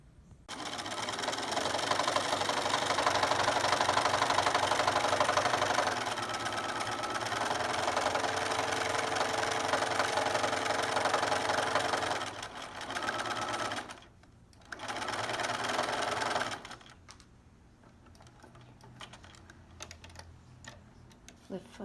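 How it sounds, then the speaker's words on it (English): A sewing machine stitches fabric along a rectangular box seam for a curio case, running in a long steady rapid rattle, pausing briefly at corner pivots, then stopping. "Sew all along this rectangle box,"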